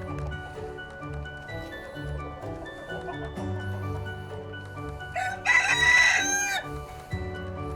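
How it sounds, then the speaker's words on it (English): A rooster crows once, loud and near, over a low background hum with faint scattered sounds before it. "Let's see the chickens."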